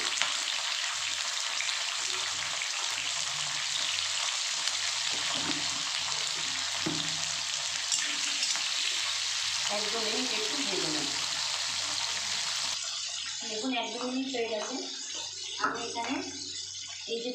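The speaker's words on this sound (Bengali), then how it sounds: "হালকা করে একটু ভেজে নেবো অল্প লবণ দিয়ে" Capsicum and potato pieces frying lightly in a pan with a little salt give a continuous broadband sizzle, joined by stirring scrapes and clinks in the second half.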